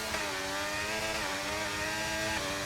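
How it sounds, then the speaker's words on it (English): Racing car engine in a racing video game on the Miami circuit, a steady high-pitched whine as it revs hard through the gears with rising and dropping tone, loud and close, no talk. "He's really revving out those gears."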